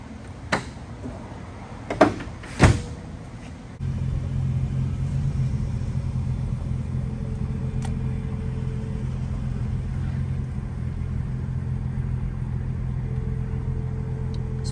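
A 2009 Nissan GT-R's door thunks shut in a few sharp, close slams, then the engine starts and settles into a steady, deep idle rumble that continues to the end.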